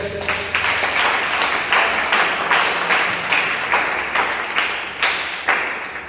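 A church congregation at a Sunday service claps together in a steady rhythm, each strong beat clearly separate and evenly spaced at roughly two per second, loud and close.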